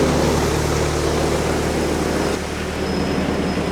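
Tractor-powered wheat thresher running steadily at close range, a continuous loud broadband mechanical roar with a low engine drone and faint high whine, no voices.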